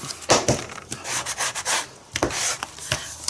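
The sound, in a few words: rubbing with a sanding block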